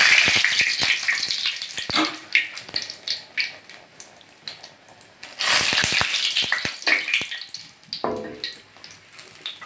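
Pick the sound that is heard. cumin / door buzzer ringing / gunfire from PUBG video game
cumin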